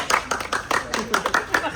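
A group of friends clap together in quick, uneven bursts, the claps close and lively, mixed with chatter and voices throughout.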